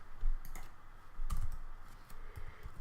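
Someone types a command on a computer keyboard in a Linux terminal, giving short bursts of close, crisp key clicks with brief pauses and no talking.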